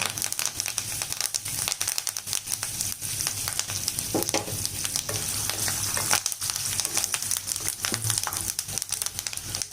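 Curry leaves, asafoetida, peanuts and chillies fry in hot oil for a raw mango puliyodharai tempering, a steady close sizzle with crackling pops and stirring scrapes throughout.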